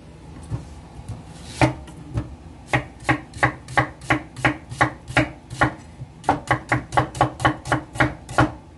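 Onion being chopped with a knife on a cutting board for bulgogi, a steady series of crisp, evenly spaced thuds, close and clear, with a brief pause midway before the rapid strokes resume.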